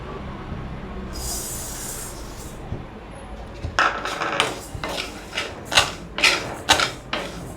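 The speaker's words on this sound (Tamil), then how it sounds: "இப்போ ஒரு கடாய் வச்சுட்டு அரிசியை இதில் வறுத்துக்கலாம்." Rice grains are dry-roasted in a kadai, a rapid scraping and rattling of grains against metal, starting midway and repeating in rhythmic close bursts after a quieter opening, with no talk.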